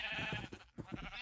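A sheep in Minecraft gives a short, wavering bleat, loud and close, heard alone.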